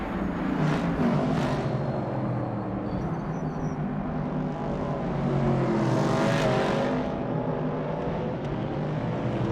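Race cars roaring and overtaking in a racing video game, a continuous blend of engine whine with swells as cars pass, no voices heard.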